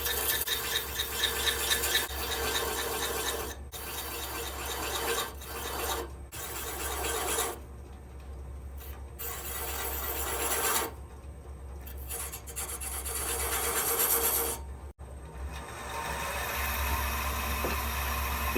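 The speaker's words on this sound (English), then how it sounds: "Just going to take the skew chisel to denote those marks a little bit better." A skew chisel scrapes and rasps against a walnut bowl spinning on a lathe at about 500 RPM, marking beads in intermittent strokes over a constant low motor hum.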